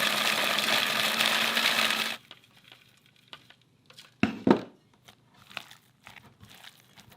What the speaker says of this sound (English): We're gonna put it in the food processor, and we'll have our breadcrumbs.